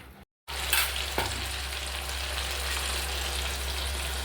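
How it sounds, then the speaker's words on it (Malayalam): Chicken frying in a pan in a home kitchen, a steady, close hiss and crackle of hot oil that holds evenly after a brief dropout at the start, with a few light stirring scrapes and no voices. "വറുക്കാണ് ഗൈസ്."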